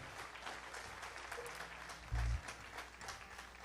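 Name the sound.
congregation applauding the Lord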